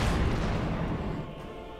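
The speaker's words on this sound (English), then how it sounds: "Stuke firing again here." A Stuka firing in Company of Heroes 2 gives a loud, dense rumbling barrage of booming blasts that holds steady, then eases off slightly near the end.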